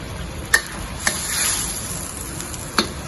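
Capsicum and big onion simmer in a bubbling sweet and sour sauce, a steady soft sizzle and hiss with a few sharp clicks of a utensil against the pan, close and fairly quiet.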